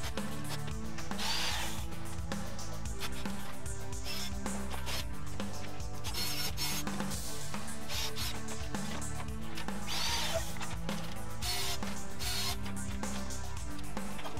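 Power drill boring a 10 mm hole through wood to take a threaded rod for a model railway helix support, a loud, continuous whirring grind with slight shifts in pitch as the bit works through the timber.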